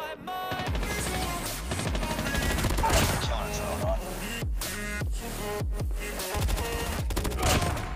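Burst fire from a Pharo gun in Call of Duty Mobile, rapid clustered shots repeating across the scene in loud, sharp bursts over busy game sound, with no talk.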